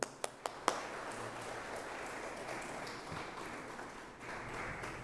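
A lecture audience at Peru's electoral authority welcomes a speaker: a few sharp, distinct claps open into a faint, steady wash of applause heard from a distance.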